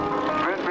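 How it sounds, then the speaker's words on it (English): Stearman biplane with a stock 220 horsepower engine flying overhead, a loud continuous droning engine and propeller sound with a shifting pitch, mixed with an announcer's voice. "This is a stock airplane, friends. This does not have a great big air show engine in it."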